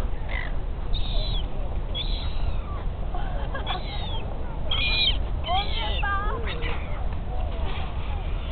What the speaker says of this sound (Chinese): 一群小鸟一直飞过来